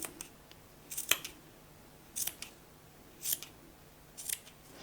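Scissors snipping through yarn for a crochet pompom, four or five distinct crisp cuts spaced about a second apart, close and clear against a quiet background with no talk.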